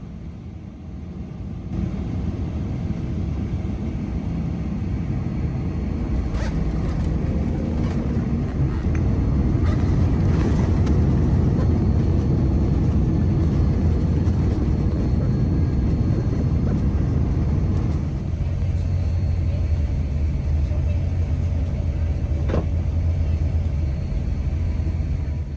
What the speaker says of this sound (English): We soon came in to land on runway 14 left at Kuala Lumpur International Airport.